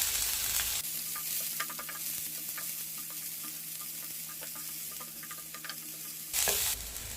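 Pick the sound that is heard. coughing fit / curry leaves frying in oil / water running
curry leaves frying in oil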